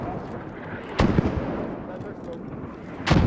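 Mortar smoke rounds land in a World War II game set at Arnhem during Operation Market Garden, two sharp nearby impacts standing out over a busy rumbling battlefield background.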